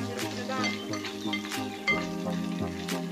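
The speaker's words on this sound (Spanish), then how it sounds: "Y ahora voy a echarle los ajos, mira los ajos" Garlic drops into a hot pan of cooking meat, giving a steady sizzle with metallic clinks and scraping as it is stirred, close and fairly loud.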